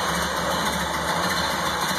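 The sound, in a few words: 1929 Model A Tudor sedan engine idling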